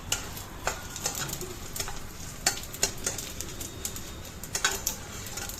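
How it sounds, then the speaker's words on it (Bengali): Whole cumin, dried red chillies and bay leaf frying in a little oil in a kadai, a soft sizzle under repeated light spatula scrapes and taps, with faint bird calls in the background. "খুব ভালো করে ফোড়নটাকে ভেজে নিলাম"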